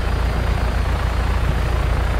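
A helicopter in the video game Just Cause 3 flies with a steady, loud, dense rotor thrum that holds unbroken throughout.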